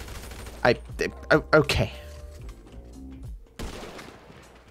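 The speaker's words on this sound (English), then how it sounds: "I'm still shooting him directly in the face." Gunfire in GTA Online, a handful of loud, sharp shots in quick succession followed by quieter game sounds, with a player's voice speaking briefly.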